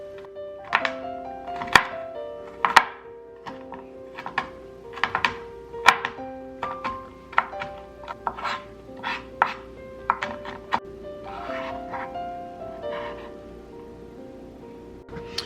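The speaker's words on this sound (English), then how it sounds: "Now take your garlic and we are going to mince them." Garlic is minced with a knife on a cutting board in a run of close, sharp chopping thunks. The strikes come in uneven clusters that grow quicker and softer toward the end, with no talking.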